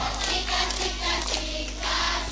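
A church congregation claps in a steady rhythm, with sharp, evenly spaced claps during a sermon.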